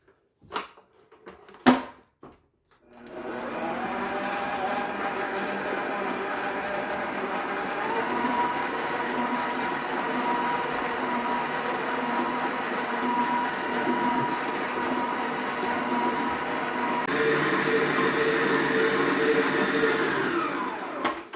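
Electric mixer creaming butter and sugar for oatmeal raisin pecan cookie dough: after a few clunks and knocks it starts up into a loud, steady whirring drone that strains slightly louder toward the end.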